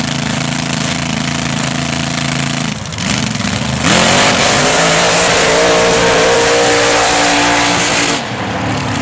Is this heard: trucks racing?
yes